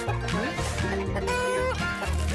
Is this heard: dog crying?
no